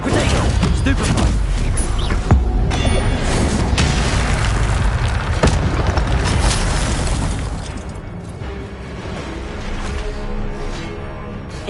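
A Stupefy spell cast in Hogwarts Legacy during combat, a loud dense blast of booming impacts and crashing effects that holds for several seconds, then drops to a quieter rumble.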